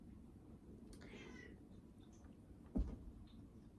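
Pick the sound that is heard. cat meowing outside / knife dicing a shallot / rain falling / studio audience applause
cat meowing outside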